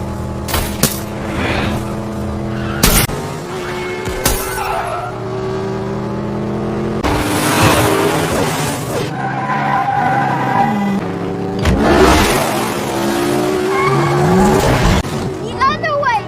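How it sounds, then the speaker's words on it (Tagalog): A high-speed film car chase through Manhattan streets, with cars pursued by the Russian Mafia, brings roaring engines, repeated tire squeals and skids, and sharp crashes and impacts. Bursts of loud action alternate with brief lulls. "Isang high-speed car chase ang naganap sa lansangan ng Manhattan."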